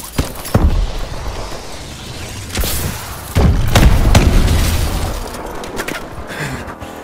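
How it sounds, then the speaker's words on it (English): Missile strikes in Call of Duty Advanced Warfare land as heavy booming thuds, several impacts spread across the stretch, with a loud sustained rumble midway and sharper crashes around them. "Friendly missile strikes incoming"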